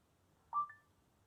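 A short electronic two-tone beep from a smartphone as an NFC app beams a message to another phone, heard alone against a quiet room.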